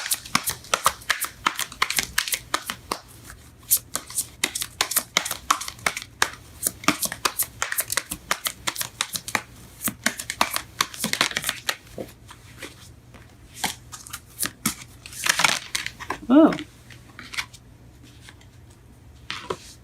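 Romance angel tarot cards being shuffled close by, a long run of crisp riffling and flicking bursts with brief pauses between.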